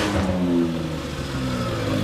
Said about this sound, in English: Listen to that turbo.